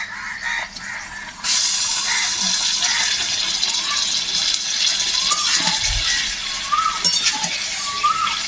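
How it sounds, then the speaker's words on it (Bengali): A little water is poured into a cooking pot of spiced chicken, making a steady rushing, hissing splash that starts abruptly and continues evenly, with faint clinks of the pot. "আমার একটা পাত্রে একটু মশলা লেগেছিল, অল্প একটু জল দিয়েছি"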